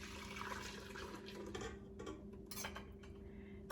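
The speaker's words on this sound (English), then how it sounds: "I'm gonna go ahead and carefully pour the whole egg mixture into the pot here." Whole egg mixture for eggnog poured from a bowl into a pot in a home kitchen, a steady close liquid pour with light clinks of cookware over a constant low stove hum.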